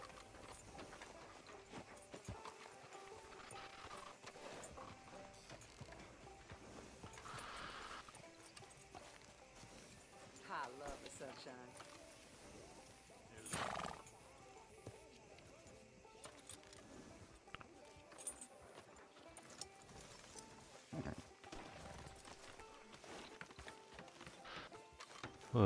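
Horse hoofbeats clip-clop steadily over a busy, music-filled Red Dead Redemption 2 game soundscape, with a few louder thumps and brief swells along the way.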